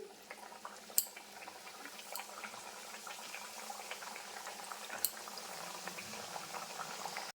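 Hing kachori deep-frying in hot oil, a steady bubbling sizzle with occasional sharp clinks of a utensil against the pan, no talking.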